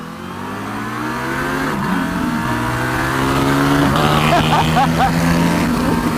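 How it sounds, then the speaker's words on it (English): A 2019 Yamaha Niken GT three-wheeled motorcycle fitted with a Termignoni exhaust pulls away under load, its engine note climbing through the gears with shifts and rising revs, loud and close while riding. "And the exhaust and the sound this thing makes."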